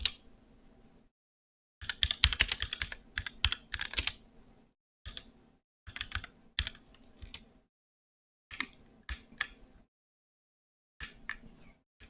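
Keys clatter on a computer keyboard as a Linux network command is typed, several quick bursts of clicking separated by short pauses, close and clear with no talking.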